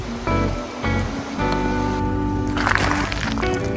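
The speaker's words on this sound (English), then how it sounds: "about to do this in the rain and the hail" Rain and hail pelting down during off-road wheeling in Colorado, a dense, steady hiss and patter that swells into a louder wash partway through, close and continuous.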